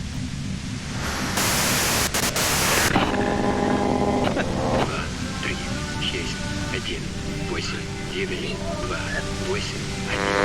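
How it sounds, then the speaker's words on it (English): White noise in Disco Elysium, a broad steady static hiss that swells loud for a couple of seconds and then continues under a voice speaking throughout. "you can do it through the white noise"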